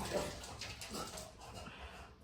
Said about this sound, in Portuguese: ambiente amador é isso daí, cachorro fazendo barulho